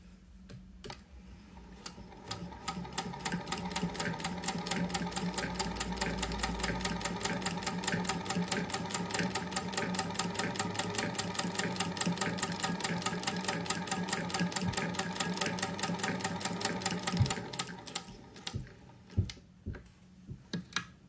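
A sewing machine stitches steadily for most of the stretch, its rapid even needle clatter close and loud, then slows into a few separate thumps before stopping.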